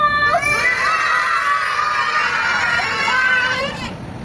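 A group of children at a safety workshop shout together loudly and continuously for about four seconds, a sustained chorus of raised young voices close by.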